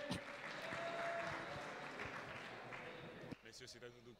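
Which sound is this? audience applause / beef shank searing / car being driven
audience applause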